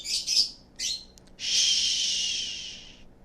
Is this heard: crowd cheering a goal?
no